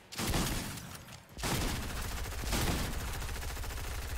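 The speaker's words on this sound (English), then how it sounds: "Now I'm being shotgun from behind" Gunfire in the video game Fortnite, loud close blasts and rapid bursts packed together after a brief gap, dense and continuous with no talk over it.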